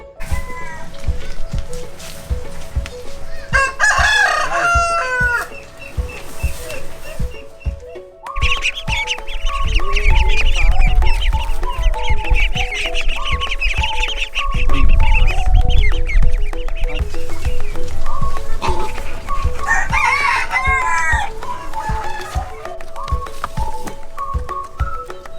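Chickens cluck and roosters crow inside a village poultry farm in Nepal, with overlapping calls from many birds, several loud nearby crows rising above a busy, steady flock background.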